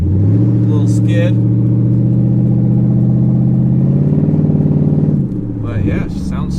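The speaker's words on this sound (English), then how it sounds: "The exhaust sounds cool." Infiniti Y33 Q45 with a chopped exhaust rumbling steadily while driving, a loud continuous low drone that rises slightly before easing off, with a voice cutting in near the end.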